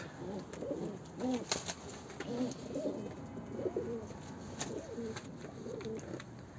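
Soft, low pigeon coos repeat in gentle rolling phrases, fairly faint, with a few sharp clicks and rustles around them.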